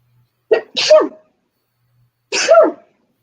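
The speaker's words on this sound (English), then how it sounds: "Yeah, I just sneeze." Two sharp human sneezes, close and loud, the first a quick double burst and the second a single explosive sneeze about two seconds later, with silence between.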